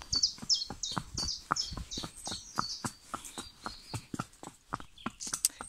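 Pony hooves clip-clop at a steady walking pace on hard ground, close and clear, while birds chirp in the background.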